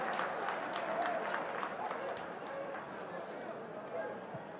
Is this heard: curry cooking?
no